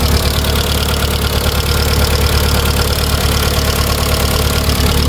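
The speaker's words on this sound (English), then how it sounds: "I think I've got some dry tappets." A VW Lupo GTi engine idles steadily and close, its even running carrying a fine, rapid ticking from dry tappets that persists throughout without pause.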